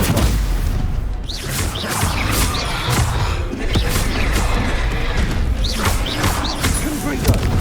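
Confringo explosive spells firing repeatedly in Hogwarts Legacy, a loud dense run of booms, whooshes and crashing impacts with a voice shouting through the continuous game battle noise.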